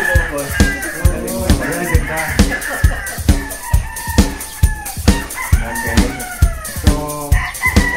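A rooster crows repeatedly and loudly up close, with clucking and other fowl calls mixed in, a busy stretch of overlapping calls with no speech.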